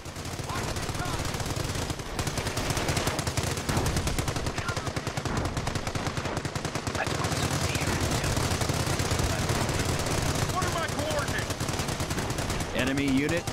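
Machine gun fire in Company of Heroes, a relentless, loud stream of rapid bursts rattling on without letup for over thirteen seconds amid a dense battlefield din, with occasional voices mixed in.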